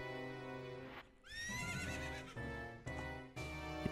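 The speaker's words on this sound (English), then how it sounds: "It's Ganon on a horse." In The Legend of Zelda: Ocarina of Time, Ganon's horse gives a loud, shrill whinny that rises and then trails off, with steady hoofbeats before and after.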